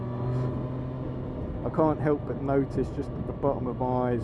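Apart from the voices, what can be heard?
Triumph Street Triple 765 R motorcycle engine, standard exhaust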